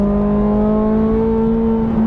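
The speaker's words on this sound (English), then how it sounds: "That sort of second stage exhaust that pops its way out." A Ferrari 430 Scuderia engine holds a loud, steady high-revving drone with strong tonal harmonics just past 5,500 rpm, close and sustained, with a slight rise near the end.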